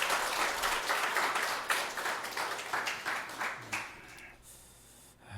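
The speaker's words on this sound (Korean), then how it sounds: "우리 하나님께 감사와 영광의 박수 올려드리겠습니다." A church congregation applauding during a Sunday worship service, many hands clapping in a rhythm that grows gappier as it fades out over about four seconds, leaving a quiet room.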